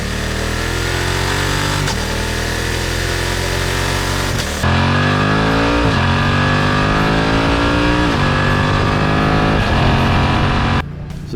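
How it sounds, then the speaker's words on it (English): A 2020 BMW F 900 XR with a 270-degree parallel-twin engine revs hard and climbs through rising gear pulls on a bumpy road. The loud, close engine note swells repeatedly and drops between shifts, with no talking. "The sound it makes is undeniably the best sound on a BMW twin engine"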